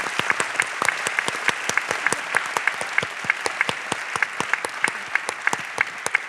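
An audience applauds climate scientist Valérie Masson-Delmotte at the Grand Témoin 2025 ceremony, a steady run of many claps, fairly close and even in rhythm, with no talking over it.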